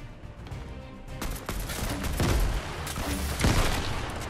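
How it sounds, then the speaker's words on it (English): Rapid bursts of AK rifle fire in the video game Fortnite, loud and dense, with repeated volleys crackling over a steady game background for several seconds. "We can do work with an AK."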